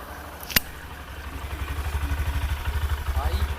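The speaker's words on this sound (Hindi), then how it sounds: "मैं इसका क्या करता हूँ साउंड भी आप लोग को सुना देता हूँ।" A 2025 Honda SP 125 motorcycle engine starts idling after a short click, settling into a steady, fast low thumping rhythm that holds evenly at close range.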